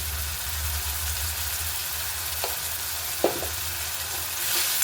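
Turmeric and coriander powder are stirred into hot oil in a frying pan, giving a steady close sizzle with a few sharp scrapes of the spoon against the pan and no talking.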